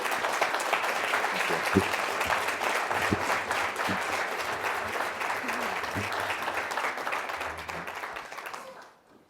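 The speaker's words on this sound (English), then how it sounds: "So join me in a round of applause for this panel" Sustained audience applause for a discussion panel at a CDKL5 patient meeting, a steady roomful of clapping lasting about eight seconds before fading out, with a brief spoken thank-you near the start.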